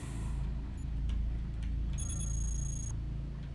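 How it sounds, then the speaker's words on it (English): An alarm sounding in the video game Cogmind, a high electronic tone held for about a second among soft game clicks and a low steady hum. "And alarm sounds."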